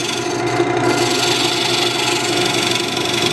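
A lathe turns a dovetail tenon on a walnut bowl blank, the tool cutting the spinning wood in a steady, continuous scraping rasp over the hum of the machine, loud and close with no pauses.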